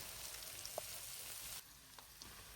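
Chopped onion and green chili fry in a pan, giving a soft, steady sizzle with a few faint stirring clicks, quiet and alone.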